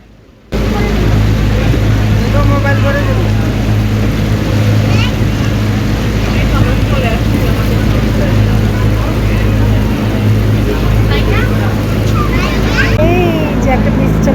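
Steady loud drone of a boat engine on a river boat trip, continuous and close, with water and wind noise and a voice talking over it.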